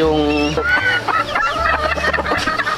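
Chickens kept at home cluck and squawk close by, with repeated sharp calls and one longer crowing-like cry, loud and continuous over a low background hum.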